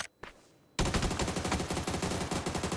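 Sustained automatic gunfire at a PUBG PC shooting range, loud and continuous with rapid regular shots after a brief near-silent pause with a couple of faint clicks.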